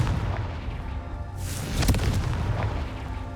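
The Confringo spell detonates in Hogwarts Legacy, a single booming blast with a sharp crack that fades into a rumbling tail, heard over a steady game background with no talk.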